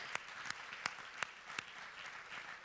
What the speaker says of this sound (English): I think we should give them all an applause.